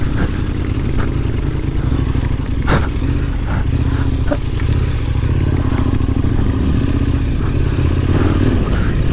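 Motorcycle ridden over a rough, bumpy trail in the Aveyron countryside during a trail-riding raid, its engine droning steadily throughout, with clattering and scraping knocks from the terrain and a sharp jolt partway through.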